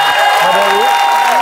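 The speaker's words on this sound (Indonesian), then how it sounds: "tepuk tangan dulu dong." Studio audience of a TV game show claps in a short, dense burst, blended with a bright musical sting and a host's voice.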